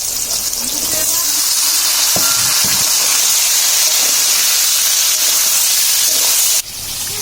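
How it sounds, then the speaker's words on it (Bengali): Taro dropped into a pan of frying potato and pointed gourd sets off a loud, steady sizzle and hiss, with a few clinks of utensils before the sound cuts off. "পটল আর আলু কিন্তু সুন্দর ভাজা হয়ে গেছে। মা এখন দিয়ে দিচ্ছে কচু।"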